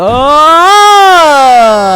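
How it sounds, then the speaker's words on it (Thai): A loud, rising then falling synthetic level-up tone from the Roblox game My Hero Rising, with rich harmonics, like a short electronic jingle, lasting about two seconds. "นี่คือเสียงอัพเลเวล"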